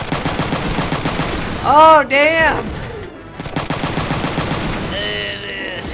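Mechs open fire in the Front Mission 3 video game, sending rapid, loud mechanical gunfire that rattles steadily. A warbling tone breaks in partway through, then the shots resume, and a person speaks briefly.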